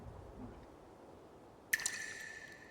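A single water droplet falls in an anime scene, a sudden bright drip with a brief ringing tail after a quiet stretch, followed by faint splashes.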